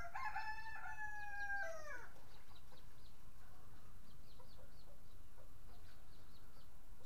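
A rooster gives one loud, drawn-out crow close by at a rural home in Surin, Thailand. Fainter chirps and calls from other birds continue through the steady outdoor background.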